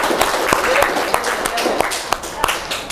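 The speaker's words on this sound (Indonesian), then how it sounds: "tepuk tangan dong untuk kita semua" Brief applause from an audience in a school literacy and teaching-innovation session, with scattered sharp claps standing out over a dense wash of hands, mixed with some voices.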